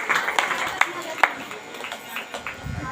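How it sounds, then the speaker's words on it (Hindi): Church congregation at a Sunday prayer meeting clapping, sharp scattered handclaps ringing out irregularly at first, then thinning into softer murmuring applause. "आप लोग तेज ताली के साथ परमेश्वर को धन्यवाद दीजिए"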